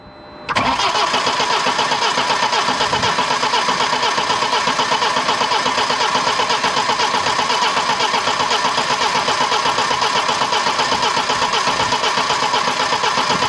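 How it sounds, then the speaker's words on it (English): A BMW 1 Series with the N47 diesel engine cranks briefly and then fires, settling straight into a loud, steady, close-up diesel idle that runs on evenly with no talking. "I'll leave you watching the engine till it fires"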